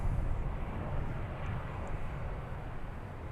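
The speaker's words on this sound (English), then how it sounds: "Arriving from Austin, flight 9728, American Airlines, and Airbus A321." American Airlines Airbus A321 arriving at Dallas Fort Worth airport, a steady low jet roar at moderate distance, rumbling evenly throughout with no talk.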